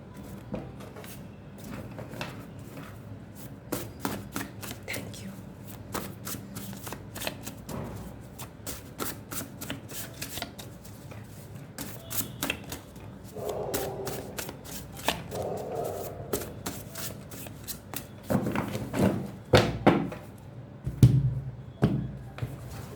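Tarot cards are shuffled by hand, giving a close, rapid series of crisp flicks and taps, with louder handling and soft thumps toward the end.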